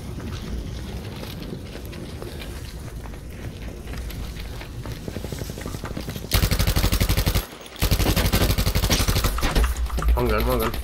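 Gunfire in a first-person PC shooter's Firestorm solo mode, dense rapid bursts loud and close with a brief break, under the player's talk.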